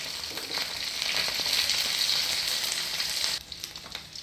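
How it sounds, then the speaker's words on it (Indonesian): Chicken skin fries steadily in hot oil as it is pressed down to render chicken fat, a dense continuous sizzle that runs close and loud for about three seconds before easing. "Semakin dia mulai mengembang kulitnya, maka semakin dengan ditekan seperti ini, dia minyaknya akan semakin membesar."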